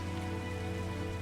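Rain falls steadily in the Minecraft game world over a lush biome, a constant dense patter of drops with a low droning hum beneath, unbroken and without speech.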